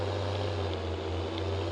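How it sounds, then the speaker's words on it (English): Struggling 150 horsepower tractor engine pulling a baler in Farming Simulator 19, a steady low labored drone with a strong constant hum, loud and close, no talking. "with the tractor struggling so badly, because the tractor should be well fit for it, because it's supposed to be a 150 horsepower tractor"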